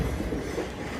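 Santa Cruz Big Trees & Pacific train running on its rails, a heavy continuous low rumble of wheels and cars rolling close by, steady and loud with no talk.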